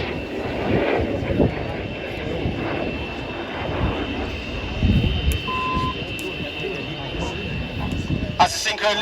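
RAF Red Arrows jets dive in formation at a Danish air show in 2022, producing a continuous distant roar under steady commentary over a public-address speaker.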